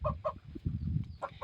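Chickens clucking at a Thai backyard breeding pen for fighting cocks, several short, close clucks in quick bursts over a low background rumble.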